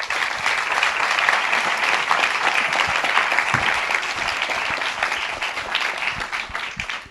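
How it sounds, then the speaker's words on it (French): An audience at a lecture applauds, with dense steady clapping from a crowd that holds throughout before fading slightly at the end. "je vous demande de bien vouloir applaudir chaudement Monsieur Jean-Marc Jancovici."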